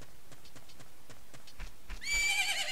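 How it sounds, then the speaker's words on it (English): A horse in the video game The Legend of Zelda: Majora's Mask trots with soft rhythmic hoofbeats, then gives a loud, bright whinny at the end. "Isn't that your horse?"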